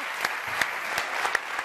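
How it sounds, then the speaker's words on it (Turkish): A studio audience applauds on a New Year's TV word-game show, a short burst of steady clapping with a few sharper claps standing out. "Alkışı duyayım."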